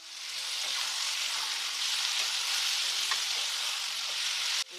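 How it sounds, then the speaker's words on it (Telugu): Tomatoes frying in a pan with sautéed onion, cucumber and capsicum for a curry, a steady close hiss of sizzling oil with faint stirring, stopping abruptly at the end. "టమాటా వేస్తున్నాను"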